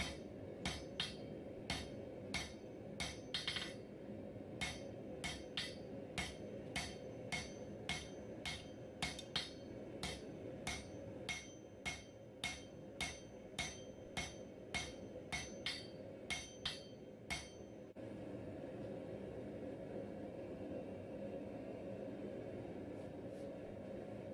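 A blacksmith hammers hot metal, drawing out a forged snake. The blows come sharp and regular for most of the stretch, each ringing clearly, then they stop and a low steady background hum carries on to the end.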